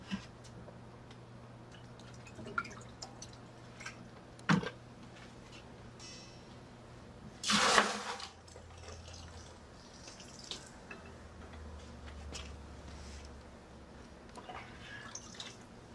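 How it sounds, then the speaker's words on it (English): Water added to soap sticks after the nitrogen has been shut off: a quiet trickle and scattered drips, with one louder splashing burst midway, in otherwise calm surroundings and no talking. "going to have to add a little water to get it to move for me"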